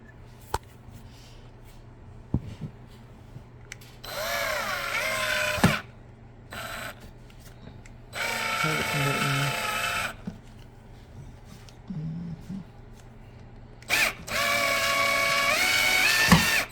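A power drill drives into a broken desk under renovation in several separate loud bursts, each with a whining motor pitch that rises and falls, separated by quiet pauses and occasional knocks.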